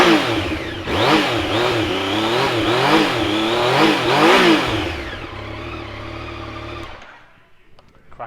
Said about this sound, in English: we'll give it a start for you so you can hear it. 850 triple